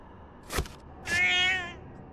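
A cat in the horror video game Junji Ito Maniac gives a short soft sound, then a clear, drawn-out meow that rises and fades, heard alone against a quiet, hushed background.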